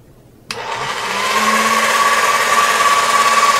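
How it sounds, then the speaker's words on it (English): An electric pasta machine switches on abruptly and runs with a steady motorized whir and a faint high whine, close by and loud. "That noise was my pasta machine."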